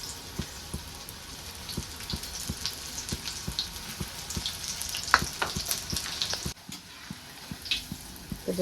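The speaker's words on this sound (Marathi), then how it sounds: "आता शेवगा शेंगा मी ह्यात टाकून घेते" Drumstick pods coated in gram flour batter deep-fry in very hot oil, a soft steady sizzle with scattered crackles and pops up close, no voices.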